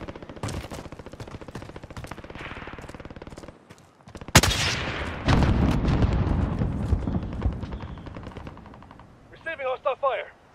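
Hostile gunfire crackles in a war video game, rapid machine-gun bursts rattling steadily, broken by a sudden loud blast and a dense volley of shots, with brief voice chatter near the end.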